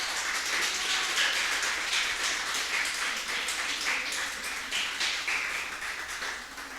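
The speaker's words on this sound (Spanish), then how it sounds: "Denle ese fuerte aplauso al Señor" Congregation at a Sunday church service applauding together, a steady dense wash of clapping that holds at a constant level for several seconds with no speech over it.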